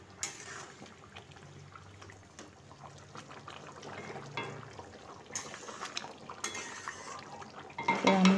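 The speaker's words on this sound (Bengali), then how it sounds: "বেসিনে গাদাখানিক বাসন, সেগুলোকেও মেজে ধুয়ে পরিষ্কার করে নিই" Pots, pans and cutlery clatter and clink in a kitchen sink piled high with dishes, with running water splashing steadily throughout and a louder burst of clanking near the end.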